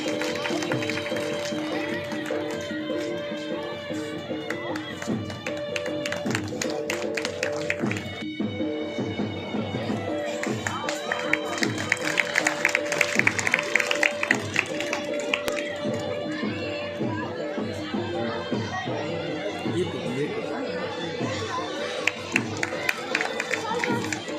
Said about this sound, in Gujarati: ભોજાભાઈ માટે ખૂબ ખૂબ તાળીઓના ગડગડ સાથે વધાવશું